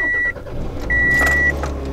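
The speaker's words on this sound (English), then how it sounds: "Right now, I'm moving my car because we're gonna go pick up my brother." A car engine hums at low, steady idle from inside the vehicle while it is being moved, with two electronic chime tones ringing over it and some faint interior rustling.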